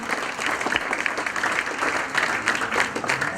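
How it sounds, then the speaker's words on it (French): Applause from a concert audience at a village event in Euville, a loud, dense and even patter of many hands clapping throughout, with faint voices mixed in. "on peut aussi applaudir tous ces enseignants qui se donnent corps d'âme pour les enfants"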